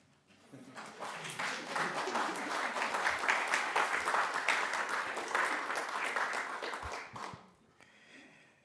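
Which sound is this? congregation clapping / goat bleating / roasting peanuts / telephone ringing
congregation clapping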